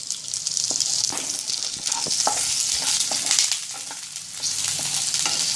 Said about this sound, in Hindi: अभी मैं इसमें अदरक, लहसुन और हरी मिर्च डाल के भून रही हूँ।